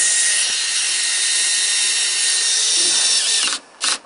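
A power driver spins a stainless steel screw into a countersunk hole in a deck board, a loud sustained whine of about three and a half seconds, then a brief pause and a short final burst as it snugs down.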